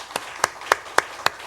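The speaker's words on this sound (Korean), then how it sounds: "박수 시작." Church congregation clapping in unison, five sharp distinct claps spaced evenly in a slow steady rhythm, close and clear over a quiet background.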